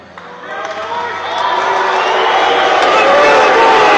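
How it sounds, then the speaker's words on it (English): A large crowd at a church event roars and boos a pastor, the noise swelling from a murmur into a loud sustained wall of voices. "these guys are booing that the pastor kicked Mark Driscoll off the stage"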